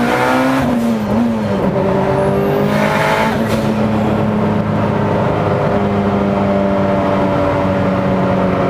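A 2003 Mitsubishi Evo built to about 830 horsepower, revving hard in third gear toward a 9,250 RPM redline. Its loud, close engine note climbs steadily and stays at a dense roar the whole time, with no talking over it.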